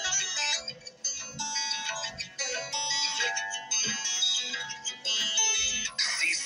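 Comedic song playing over a radio broadcast, bright and somewhat thin with busy music that has sung vocals running throughout, at moderate level.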